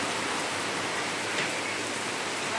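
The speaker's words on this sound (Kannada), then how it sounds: "ಭಾಳ ಜೋರ ಹೊಡೆ ಐತಿ ಮಳಿ." Heavy rain pouring down outside a house, a dense, steady hiss of downpour filling the whole clip with no voices.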